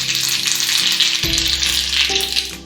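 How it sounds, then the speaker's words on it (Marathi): Mustard seeds dropped into hot oil for a tempering over kadhi give a loud, close, continuous sizzle and crackle, with a brief rattle as more seeds go in. "आता आपण यावर छान खमंग असा तडका देऊ."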